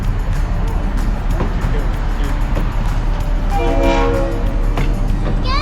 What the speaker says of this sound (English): The Valley Flyer coming in the station.